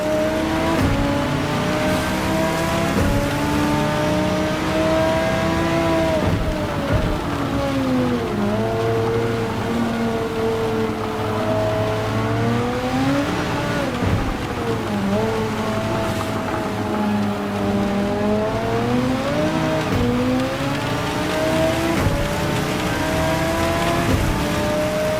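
Audi R8 LMS Evo race car engine in the sim racing game Project Motor Racing, in the rain, drones loudly and continuously, its pitch rising and falling through repeated upshifts and downshifts, with no talk over it.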